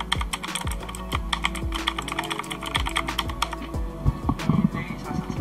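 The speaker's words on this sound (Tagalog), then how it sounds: "Ito na po yung keyboard." Clattering keystrokes on a Rakk Kimat XT.LE mechanical keyboard with LED lighting, typed in quick uneven bursts at close range, with a faint voice in the background.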